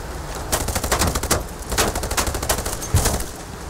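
Rapid bursts of gunfire sound in the naval video game Age of Water, with a quick run of sharp, loud cracks and short gaps between them.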